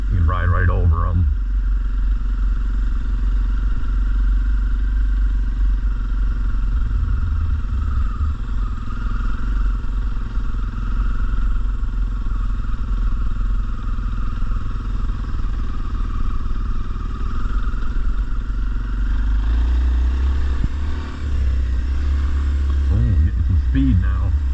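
A dirt bike's engine drones steadily and loud close by as it rides a wooded trail over roots, with a short rev burst near the start and a louder surge near the end.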